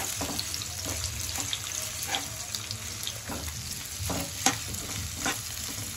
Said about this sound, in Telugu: లో ఫ్లేమ్, మీడియం ఫ్లేమ్లో పెట్టుకొని మాడిపోకుండా మంచి కలర్ వచ్చి పచ్చి వాసన పోయేంత వరకు ఫ్రై చేయాలి.